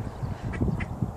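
Ducks quack beside a swollen, fast-flowing river on an outdoor outing, a few short nasal calls close by over a low background rumble.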